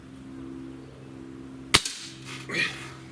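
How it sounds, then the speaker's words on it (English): A Cometa 94 breakbarrel air rifle fires a single sharp crack, close and loud, followed by a brief ringing tail and a smaller thud or impact about a second later, over low steady background hum. "All right, shot number 1."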